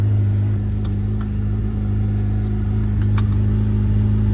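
A powerful supercar engine drones loudly and steadily at close range as it is put into first gear, with a couple of faint clicks and no clear revving.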